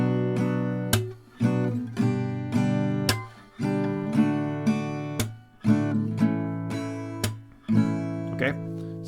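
Acoustic guitar strummed on all strings in a down, down, clap, down pattern, full ringing chords punctuated by sharp percussive slaps in a steady, repeating rhythm, close and alone.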